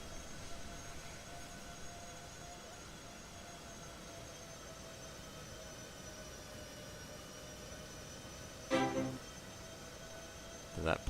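Boeing 737 MAX 8 jet engines in a landing replay from Microsoft Flight Simulator, a faint steady engine drone with thin whining tones, broken by a couple of brief louder thumps near the end.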